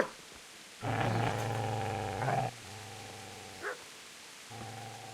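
A dog in the medieval video game Kingdom Come Deliverance gives loud, close growling barks and snarls in several sustained bursts with short pauses between them.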